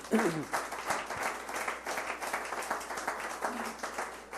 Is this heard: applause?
yes